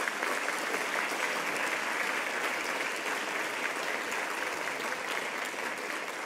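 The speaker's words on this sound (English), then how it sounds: "I would like to give the NIH leadership a round of applause" A large audience applauds NIH leadership with sustained, even clapping that fills the room, steady and moderately loud throughout with no speech.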